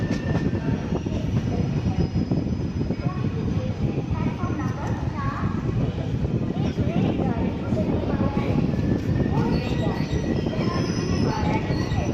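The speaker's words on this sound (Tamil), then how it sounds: "செம்ம சூப்பரான ட்ரெயின் வெஸ்ட் கோஸ்ட் எக்ஸ்பிரஸ்" The West Coast Express passenger train rumbles along steadily, with wheels rattling and metallic squeals over a continuous loud roar, heard from on board.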